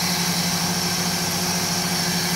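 Toyota 2E engine idling steadily with a constant close drone while its carburetor is being adjusted, no voices over it.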